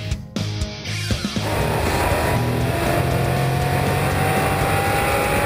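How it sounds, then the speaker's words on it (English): A 2013 BMW M5 with stability control off and sport settings engaged runs a hot lap on a racetrack. A few brief shifts give way to a loud, sustained, steady engine roar from inside the cabin. "I'm in the new M5. I've got stability control turned off. Got everything in the sport setting. I'm doing a hot lap."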